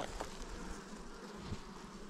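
Honeybees from a brood-rearing colony drone steadily around an opened hive during frame work, a dense continuous buzz close by with no talking.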